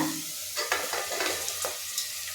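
Onions and bitter gourd frying in a pan for a bitter gourd stir-fry, a soft sizzle broken by a few bursts of spatula stirring, close and without speech.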